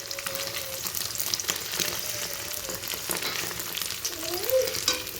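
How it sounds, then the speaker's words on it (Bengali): An egg omelette fries in a pan with a steady, close sizzle throughout, broken by occasional scraping stirs of a spatula, and no one speaks. "এখন ডিমটা অমলেট করে নেবো।"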